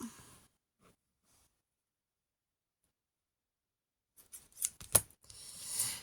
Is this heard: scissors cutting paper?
yes